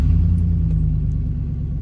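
A pickup truck engine idles with a steady, close, low rumble and an even throb that holds without revving.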